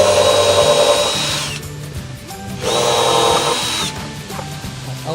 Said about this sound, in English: Right now I'm pre-drilling.